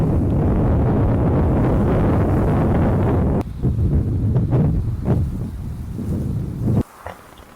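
Strong wind roars steadily across the microphone on a sailing boat in rough seas off the African coast. It buffets loudly, then drops suddenly to gusty rushes with water noise before cutting off near the end.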